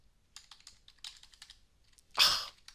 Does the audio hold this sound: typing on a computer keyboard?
yes